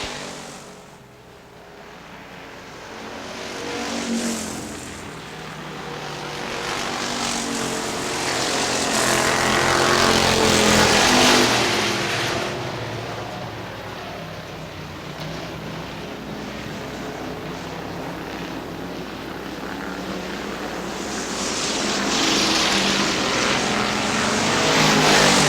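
Factory stock race cars roar around Hartford Speedway Park in Hartford, Michigan, as a field of engines rises and falls while they pass. The din is loud but a little distant and stays continuous, with surging waves of noise.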